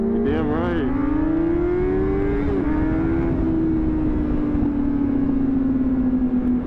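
A motorcycle engine runs steadily while the bike is ridden, a loud, close, continuous drone whose pitch climbs and then eases back, with wind noise over it and a voice speaking briefly at the start.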